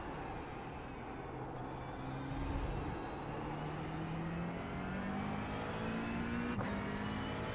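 Simulated race car lapping Daytona in a racing video game, its engine a steady loud drone that rises in pitch as it accelerates through the gears, alone without talk.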